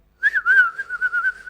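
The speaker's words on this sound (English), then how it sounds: "Whistles just to get their attention." A single person whistles to get attention: one close, loud, steady tone lasting over a second and wavering slightly in pitch, with no talking.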